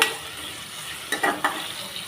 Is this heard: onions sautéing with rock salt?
yes